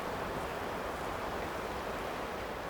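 The Klamath River rushes in a steady, broad wash, heard close by, with no voices.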